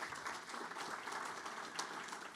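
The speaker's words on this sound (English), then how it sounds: "Give him a round of applause." Faint audience applause at a chamber of commerce awards event, a brief, steady patter of many hands clapping, heard quietly and from a distance.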